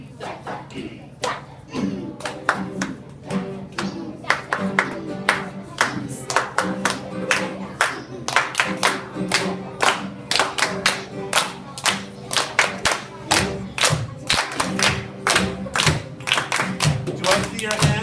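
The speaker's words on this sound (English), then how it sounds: "Do I see your hands clapping?" Flamenco hand clapping by a professional dancer, sharp rhythmic palmas that build from sparse claps into a fast, steady pattern, close and prominent, with voices talking underneath at times.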